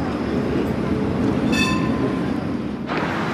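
Tram ride through Geneva, Switzerland: a steady loud rolling rumble inside the car, with a brief metallic wheel squeal midway.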